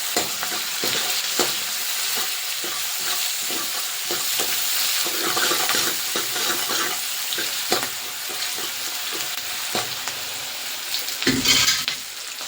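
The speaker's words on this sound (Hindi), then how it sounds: "अब छौंके को मिक्स कर देते हैं।" A tempering of onion, chopped chili, dried red chili and salt sizzles steadily in a hot pan while a spoon stirs and scrapes at intervals, with a louder scrape near the end and no talking.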